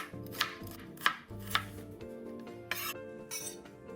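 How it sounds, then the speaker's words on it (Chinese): A knife chopping onion into thick strips on a cutting board, about seven sharp, distinct chops in an irregular rhythm, close and fairly quiet, with no talking. "将50克洋葱切成粗丝"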